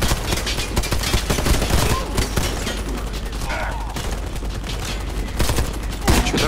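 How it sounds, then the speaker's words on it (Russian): Intense gunfire in the shooter game Warface, with continuous automatic weapon fire rattling loudly and close for the whole stretch, punctuated by sharper shots and occasional voices underneath. "Не пойми, в кого они стреляют вообще."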